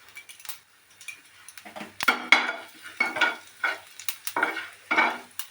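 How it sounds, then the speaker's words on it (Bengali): Hand-crushed cumin seeds sizzling in hot oil, heard close as crackling bursts with repeated spoon scrapes and light clinks against the pan, no voices. "এই গরম তেলে বন্ধুরা এই যে জিরা, যেটা আমরা খাই জিরা ঝোলে দিই, সেই জিরাটাই একটু হাতে ম্যাশ করে তেলের মধ্যে দিয়ে দিই।"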